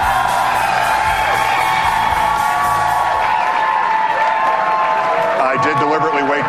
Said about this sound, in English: I did deliberately wait till after the applause.